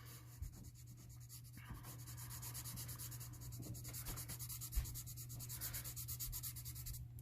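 Pencil shading on paper for a cube drawing, a steady soft scratchy rubbing in continuous back-and-forth strokes, close and quiet, with a low hum underneath and no talking.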